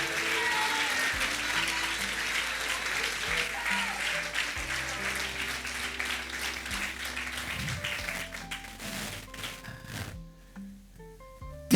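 A Sunday church congregation claps loudly for the Lord over sustained keyboard chords, a busy crowd patter that thins out near the end as the music continues alone.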